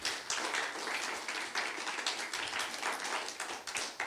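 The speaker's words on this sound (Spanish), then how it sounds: "Dele un aplauso al Señor." A church congregation applauds during a Spanish-language sermon, a dense, steady patter of many hands clapping that fills the whole clip at even strength, with no voice over it.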